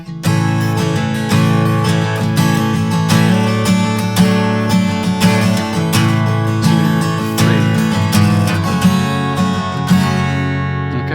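An acoustic guitar strums the chord progression of a song with passing bass notes moving underneath, steady rhythmic strokes ringing out and fading at the end.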